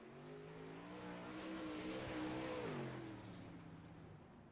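A dirt late model race car, the number 22, runs a qualifying lap on the dirt track at Charlotte, its engine a loud, steady roar that rises in pitch and then eases back as it passes close by.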